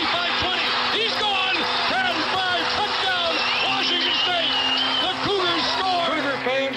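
A Washington State football stadium crowd cheers their team off the field: sustained roaring applause and cheering fill the background while a commentator talks steadily over it.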